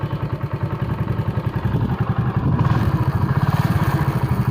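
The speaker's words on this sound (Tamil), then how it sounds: "வண்டி ஸ்டார்ட் ஆகிடுச்சு." A TVS XL 100 moped engine runs after starting, with a steady rapid putter at close range that grows slightly louder and rougher midway, with no voices.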